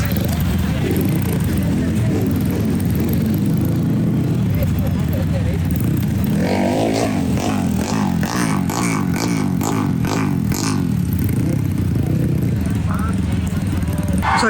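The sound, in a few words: supercross motorcycles starting a race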